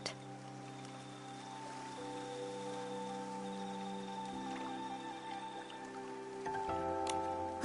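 Rain falls in the video game Infinity Nikki as an even, soft hiss of drops that lasts throughout, under sustained background music that swells near the end.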